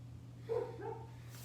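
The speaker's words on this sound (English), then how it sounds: "So, I do have my little dog here" A short, faint high-pitched whine from a small dog, two brief nasal tones over a steady low electrical hum.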